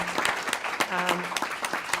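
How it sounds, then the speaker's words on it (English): A crowd claps steadily for a couple of seconds at a school board meeting, dense applause at moderate volume with a voice briefly audible underneath. "So just a round of applause for everyone who took part in that summer programming."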